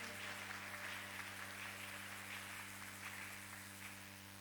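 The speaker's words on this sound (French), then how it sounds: "Eti tunaweza kuchapa mikono juu yake" A church congregation applauding during a Sunday worship service: dense, continuous clapping from many hands that holds steady throughout and eases slightly toward the end, with no speech over it.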